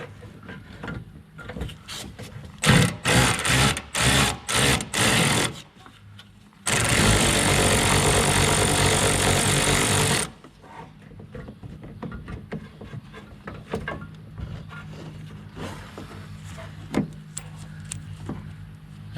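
A ratchet on an extension with a swivel socket turns a bolt under a GMC Sierra pickup, giving bursts of rapid clicking, then a steady whirring stretch, followed by quieter scattered clicks and handling noises.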